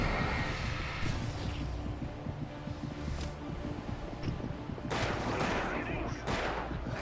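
Gunfire rings out in the video game Alan Wake, a string of sharp shots, some bursting loudly near the end, over a constant noisy, windy background with a voice talking.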